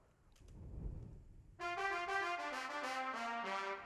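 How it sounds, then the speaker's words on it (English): A saxophone sample from a hip-hop beat enters abruptly after a quiet low rumble, playing a bright, harmonically rich melodic phrase of sustained notes at steady loudness with no talking. "The saxophone, my favorite part."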